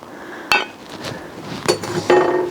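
Sliced frankfurter chunks dropped into a pot of bean soup while camping: a few scattered clinks and knocks against the pot, one sharp near hit followed by softer bumps and a rattle at the end.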